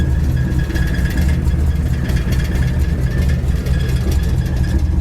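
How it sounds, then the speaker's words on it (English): A 1963 Chevy Impala SS with a 409 engine idles steadily and loudly up close, its deep rumble continuous with a slight rattle from a loose exhaust. "Sorry about that little rattle, guys. Like I said, we'll get that fixed when we get back on that exhaust."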